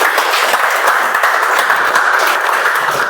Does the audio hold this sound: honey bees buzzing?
no